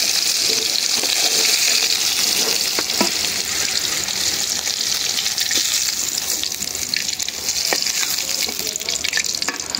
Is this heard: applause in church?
no